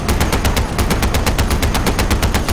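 Rapid automatic gunfire from the video game Far Cry 4, a loud, steady stream of evenly spaced shots with dense low-end rumble, continuing unbroken and alone with no talk.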